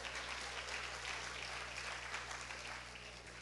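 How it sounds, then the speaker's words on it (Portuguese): A church congregation at a Portuguese-language service applauds, a faint, continuous hiss of many hands clapping that stays even for a few seconds, then softens slightly toward the end. "Vocês estão aplaudindo a quê?"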